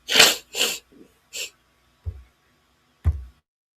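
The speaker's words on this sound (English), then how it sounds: "Now I had to blow my nose." Several forceful bursts of air close to the mic, a few quick blasts then two low snorting puffs as someone clears and blows their nose.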